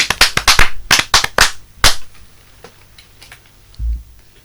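A small class claps in a few sharp, uneven bursts of close hand claps, loud for under two seconds before trailing off into scattered taps and a quiet room.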